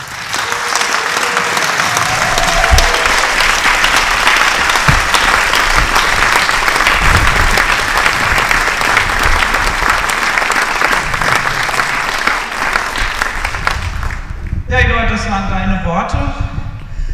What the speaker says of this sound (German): Das war dein Beifall